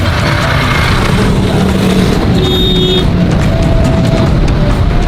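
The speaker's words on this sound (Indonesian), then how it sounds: "Dan di tengah-tengah ada lalu lintas yang luar biasa padatnya" Dense traffic in a crowded Lahore alley, a loud continuous drone of engines and motorbikes with scattered horn toots, close and unbroken throughout.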